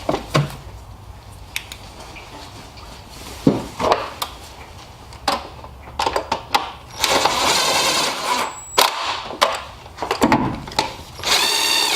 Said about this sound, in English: tighten up the 8mm screws